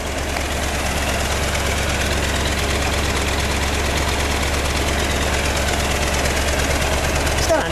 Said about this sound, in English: Give me a little exhaust note, Bill.